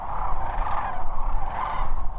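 Rolling, trumpeting sandhill crane calls overlap continuously in Nebraska, a chorus of rattling cries from thousands of birds at moderate distance, rising and falling without pause.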